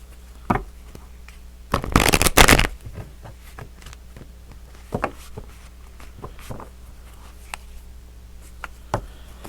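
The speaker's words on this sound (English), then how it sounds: "So we're going to pull some tarot cards" A deck of tarot cards is shuffled close by, with one loud riffling burst near the start followed by scattered soft taps and card flicks, and no talking.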